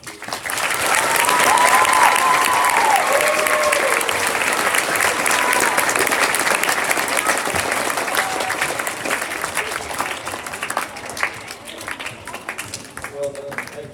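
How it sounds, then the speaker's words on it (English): A school gymnasium crowd at a Veterans Day assembly gives veterans a long, loud round of applause that fills the room for the full stretch, slowly thinning toward the end, with faint voices mixed in. "please join me in giving the veterans from past, present, and future a big round of applause"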